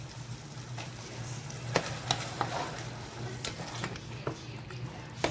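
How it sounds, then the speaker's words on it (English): Boiled saltfish being stirred in a frying pan, with a steady soft sizzle and several sharp scraping clacks of the utensil against the pan, close and moderately loud, with no talk. "Add the saltfish in."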